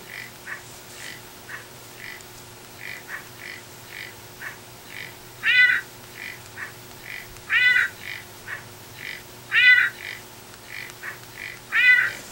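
Game animal sound effects play from an iPod Touch in a Simon Says–style memory game: short, repeated electronic animal calls like squawks, meows and quacks, with louder bursts returning about every two seconds over a faint steady hum, no voices.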